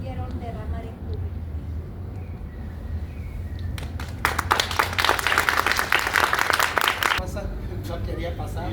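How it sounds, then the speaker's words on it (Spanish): Theatre audience applauding after a stage performance, a burst of clapping rising midway, filling the room for about three seconds, then fading under background murmur and talk. "Gracias por esos aplausos."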